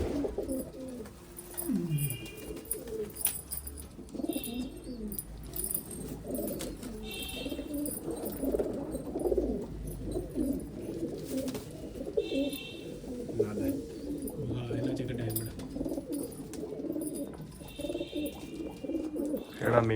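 Dubwale pigeons coo repeatedly in low, throaty bursts, steady and fairly close, with faint chirps and bits of background talk now and then.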